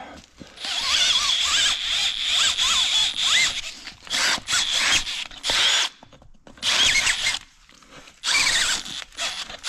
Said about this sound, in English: So now we're just going to take this ream and ream it out to 9/16 to match the bolts.